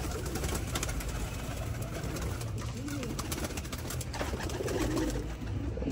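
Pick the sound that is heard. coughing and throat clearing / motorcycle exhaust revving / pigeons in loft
pigeons in loft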